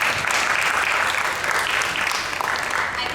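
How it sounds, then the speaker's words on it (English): Steady, loud applause from a panel discussion audience, many hands clapping in a dense even wash for a few seconds without speech. "I think the applaud has actually affirmed that"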